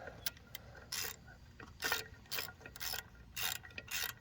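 A ratchet wrench tightens the muffler on a Bolens 450E lawnmower, quick clicking bursts repeated in an uneven rhythm, close and quiet, with no talk.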